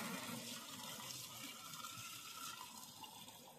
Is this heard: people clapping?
no